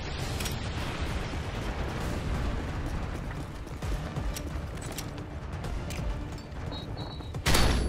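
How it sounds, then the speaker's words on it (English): Predator missile strike in a wave-based survival shooter game, a dense, sustained rumbling blast with crackling debris, ending in a sharper loud burst. "Friendly Predator missile inbound."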